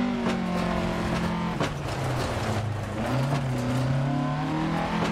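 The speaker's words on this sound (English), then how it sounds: "Can you guys hear the engine?" Rally car engine running hard on a stage, loud and close throughout, with steady revving harmonics rising and falling as the driver shifts; no talk over it.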